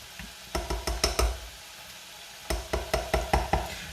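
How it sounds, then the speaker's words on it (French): Minced meat for moussaka being stirred in a frying pan, a run of about six rhythmic scraping knocks, a pause, then another similar run, with a soft sizzle underneath. "Je viens bien mélanger ma viande hachée."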